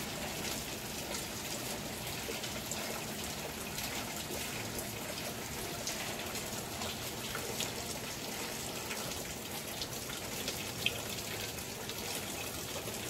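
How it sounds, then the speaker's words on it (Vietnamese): Light drizzling rain falls steadily on a plant nursery in Dong Thap, making a soft even hiss with scattered drip patter throughout and no talking. "Lâm râm, muốn tạnh mưa rồi các bạn."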